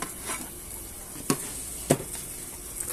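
Dried fish (daing/tuyo) frying in a pan gives a steady soft sizzle, with two sharp pops or clinks standing out near the end.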